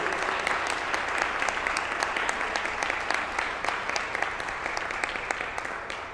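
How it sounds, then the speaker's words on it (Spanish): Warm, steady applause from the audience at a press conference on child marriage for Gloria Reyes, director of Prosoli, a dense continuous clatter of many hands with no talking. "la entonces diputada Gloria Reyes, hoy directora de Prosoli, para quien pido un fuerte aplauso"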